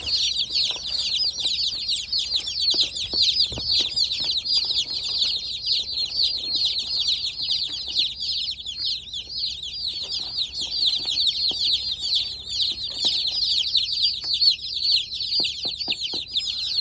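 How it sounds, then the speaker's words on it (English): Dense, continuous cheeping from a large brood of baby chicks, a steady high chorus of overlapping peeps running throughout with occasional soft fluttering and no talk. "It's a bunch of little baby chicks."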